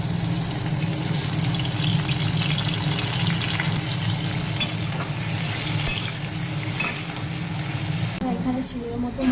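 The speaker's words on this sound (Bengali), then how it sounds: "আর এখানে চিংড়ি মাছগুলো ভাজা বসিয়ে দিয়েছি।" Prawns fry in a pan for a potol-prawn curry, giving a steady, moderately loud sizzle with scraping stirs throughout and a brief shift near the end.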